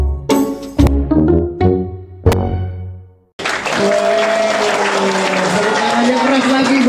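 Audience applause at a Christian gathering in Bangkalan breaks out after a few seconds of tonal, voice-like sounds, then carries on as a loud, dense, sustained clatter with voices rising over it.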